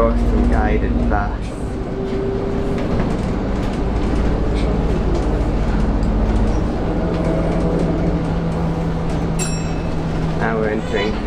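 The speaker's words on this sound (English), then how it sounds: "Awesome guided bus." A steady interior ride rumble of a guided bus rolling along the Luton Busway, with engine drone and rattles, while a voice talks over it.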